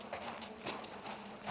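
Horse hooves clip-clop at a steady walking pace during a hippotherapy session, moderately close, with a constant low hum beneath.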